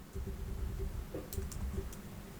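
Typing on a computer keyboard while building a CSS form: a few faint, quick clicks around the middle, set over a steady low hum.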